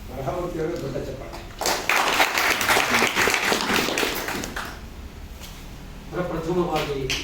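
A hall audience applauds during a pyramid hall inauguration, a burst of clapping of several seconds framed by a speaker's voice at the start and end.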